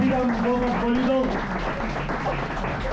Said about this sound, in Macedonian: Аплауз за Аце, брато.